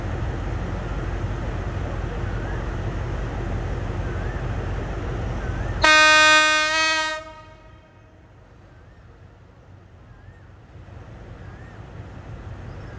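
The Royal Blossom special excursion train sounds a loud horn blast of a second or so midway, then rumbles as it departs. Wayside noise comes before the horn and a quieter hush follows it.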